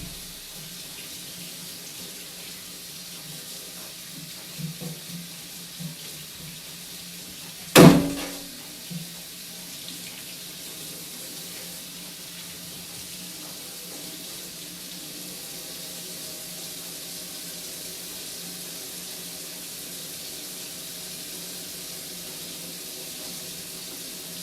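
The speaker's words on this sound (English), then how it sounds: "I'm going to rinse these off," Wine glass tumblers are rinsed under a steady running tap, a soft continuous water hiss with one sharp clink of glass partway through.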